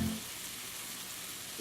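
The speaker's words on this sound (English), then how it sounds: "Saute these, just really let them absorb that butter and olive oil. Now we're going to place them back in the frying pan." Food sautés in butter and olive oil in a frying pan, giving a soft, steady sizzle for a brief moment.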